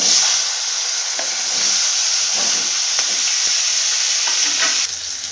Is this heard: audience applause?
no